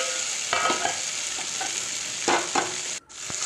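A fish head is broken up with a spatula and mixed into spices in a frying pan for moong dal, with a low sizzle under several close scraping and tapping strokes.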